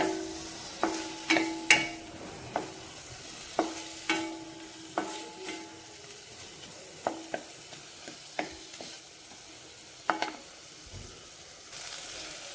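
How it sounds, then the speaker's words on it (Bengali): Ginger, garlic, tomato, onion and dry chilli fry in a pan for dhaba-style dum aloo, with soft sizzling under a steady series of about a dozen spatula stirs and scrapes, heard close. "রসুন ওইগুলো একটু ভালো করে ভাজা ভাজা হয়ে গেছে।"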